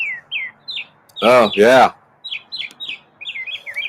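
A pet bird chirps in short, bright tweets and trills throughout, close and clear, with a person briefly speaking over it midway.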